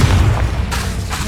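A Confringo blasting spell from Hogwarts Legacy detonates in a loud, deep boom that rolls on as a dense, sustained rumble.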